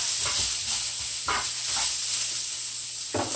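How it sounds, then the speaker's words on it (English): Onions sizzle steadily in a pan for a vegetable stir-fry, with a constant bright hiss and a few soft scraping stirs of a utensil, close and with no voices. "I'm just going to stir my onions up"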